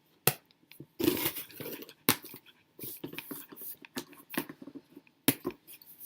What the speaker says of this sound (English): I'm gonna need scissors to cut these because they're so tight on him.